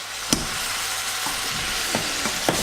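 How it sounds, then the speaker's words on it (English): Onions and ginger fry in a pot for a garlic and onion soup, giving a continuous close sizzle with several sharp clinks and scrapes of stirring spaced through it. "So we're still cooking the onions, the ginger"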